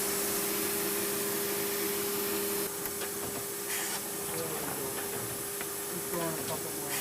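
Vacuum hissing on an Osako Estar bindery machine, a steady broadband air hiss with a constant machine hum running throughout, and brief bursts near the end.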